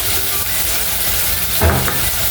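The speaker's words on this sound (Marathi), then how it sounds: "कांदा टोमॅटो तळत असतानाच आपल्याला त्याच्यात" Onion and tomato fry in a pan for a green moth bean usal, with a loud, dense sizzle close by and a brief louder stir or scrape partway through.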